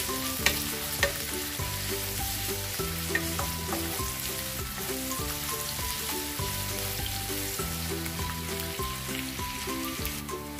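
Garlic and onion sauté in a hot pan for pork mechado, giving a steady close sizzle and frying crackle that runs unbroken throughout, with occasional soft stirring scrapes.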